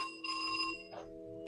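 A telephone rings indoors in a painting studio, a steady electronic ringing tone that fills the short moment, moderately loud and alone without talk.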